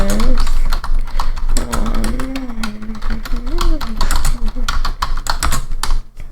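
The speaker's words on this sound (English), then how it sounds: "Let me type that in." Rapid clicking of keys as someone types on a computer keyboard, close and steady, with a person speaking softly over the typing.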